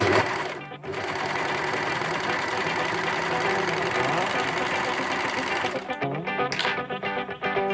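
An Amber Air S400 sewing machine runs a steady, fast stitching whir while gathering a single layer of fabric, loud and close, stopping near the end with a few short bursts.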